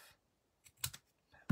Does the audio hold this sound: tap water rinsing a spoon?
no